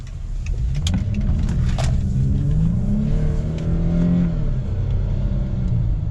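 A Chrysler 300 accelerating hard at full throttle, its engine droning loud and steady with a rising pitch through the pull.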